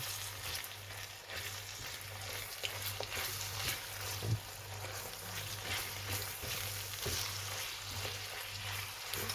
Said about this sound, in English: I'm going to put my bacon and mushroom in and stir that in